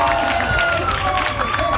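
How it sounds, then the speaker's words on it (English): An audience at an outdoor science show at the Ostrich Festival applauds: a loud, dense burst of many hands clapping close by, with some voices mixed in for about two seconds. "Something cool enough deserves some hand clapping out there."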